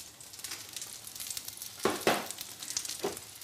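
Tomatoes with a pinch of salt sizzle softly in a pan with a dribble of garlic oil, a quiet crackle broken by a few brief scrapes as they are tumbled about, without speech.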